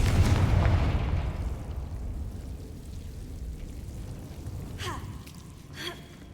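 Confringo fire spell blasting in Hogwarts Legacy, a single loud boom up front that decays into a rumbling tail, with faint brief crackles and hits later.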